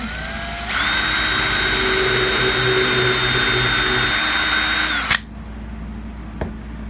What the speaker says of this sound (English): Let's drill a hole in here.